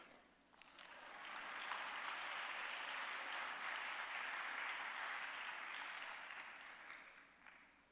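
An audience applauds in a hall, the clapping swelling in quickly, holding as a steady, moderately distant wash for several seconds, then fading out near the end.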